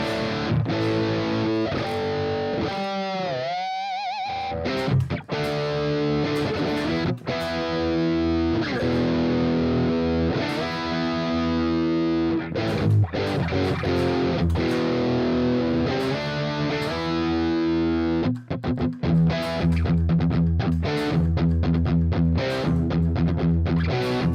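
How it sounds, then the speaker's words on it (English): A distorted electric guitar with a thick humbucker tone plays sustained chords and riffs, loud and close throughout. "And now see like the humbucker sound."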